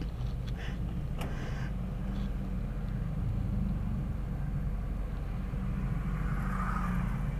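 Cars idle and creep along in a morning traffic jam, a steady low engine drone close by with brief faint clatter early on and no clear talk.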